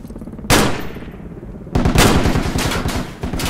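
Enemy gunfire in the military game Project Reality, a sharp single shot followed by a rapid burst of automatic fire, loud and close with echoing tails.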